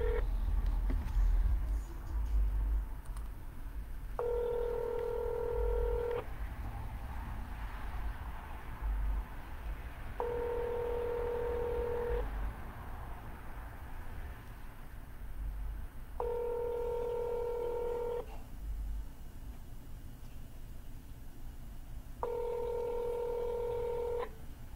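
Touch-tone phone dialing from the Vulcan 7 dialing platform: four separate bursts of steady electronic tones, each about two seconds long, spaced evenly apart over a quiet background hiss.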